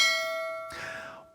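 A single bright notification bell chime rings out clearly alone after a steady tone, then its metallic ring decays quickly.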